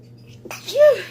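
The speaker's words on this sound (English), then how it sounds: "I'm going to sneeze" A single sharp sneeze close to the microphone, starting with a quick intake of breath before the loud burst.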